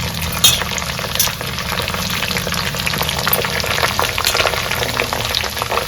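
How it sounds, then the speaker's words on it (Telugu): Curry leaves frying in hot oil for a drumstick and curry leaf spice powder, a dense, steady crackling sizzle running throughout with a few sharper pops, no voices. "సో మనం తీసుకున్న కరివేపాకు మొత్తము ఇట్లా నూనెలో వేపుకుందాము."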